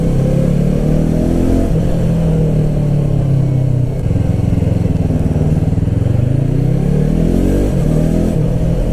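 Yamaha R3 motorcycle (2015) fitted with an Akrapovic exhaust, ridden at easy cruising speed, its steady mid-pitched engine drone rising and falling with gear changes and throttle, loud and close throughout with wind noise.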